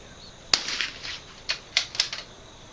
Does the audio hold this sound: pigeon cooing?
no